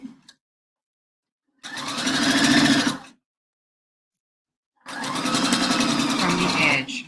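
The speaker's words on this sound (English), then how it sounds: "I'm sewing down the center seam at 1/4 of an inch." Sewing machine stitching the center seam of a bra at a quarter-inch allowance, running in two steady bursts of about a second and a half and two and a half seconds separated by silence, close and clear.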